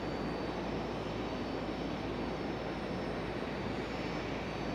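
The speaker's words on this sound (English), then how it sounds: "there's a Delta coming in soon from Atlanta" Steady broadband roar of a Delta airliner jet arriving at Raleigh-Durham International Airport, a continuous even rumble with no talk over it.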